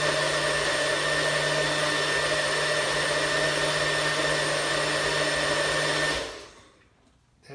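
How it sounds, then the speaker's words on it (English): A blender whirs at a steady, loud, even pitch while blending almonds, pecans and cashews with water into nut milk, running continuously for about six seconds before switching off and winding down. "And you just listen to it, and it'll tell you when all these nuts happen to be blended enough for you to drink."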